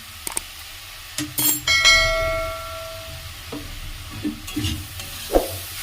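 Pan of food sizzling after soy sauce and vinegar go in, with metallic spoon clanks and ringing scrapes against the pan as it is stirred, close and moderately loud.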